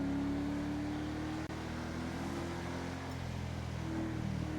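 A truck in GTA 5 roleplay roars along at speed, its engine drone steady and loud throughout with a brief dropout near the middle, no talk over it.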